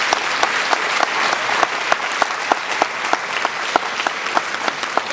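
Steady audience applause at a plenary session of a world conference, many hands clapping at once in a dense, even wash with a few sharper individual claps standing out, sustained throughout at moderate loudness.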